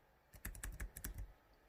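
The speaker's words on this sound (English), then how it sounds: "As you can see, I am typing." Quiet, quick keystrokes on a computer keyboard, about a dozen soft clicks in a short burst, close by and alone.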